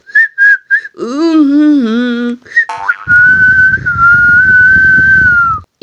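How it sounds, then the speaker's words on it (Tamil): A person whistles loudly to call someone: a few short chirps, then a wavering whistle and a long sustained high tone, near and prominent, with no talking. "விசில் அடிச்சு விசில் அடிச்சு கூப்பிட்டு இருக்கிறேன்"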